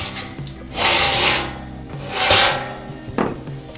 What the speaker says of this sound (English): So just gonna spray my pans again.